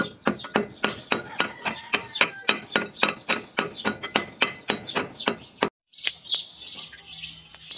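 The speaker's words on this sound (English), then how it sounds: "Crushing rocks to extract gold." Quartz rock crushed to extract gold, heard as a rapid series of sharp, regular metallic pounding clinks close up, followed by a brief pause and scattered lighter clinks and rattles.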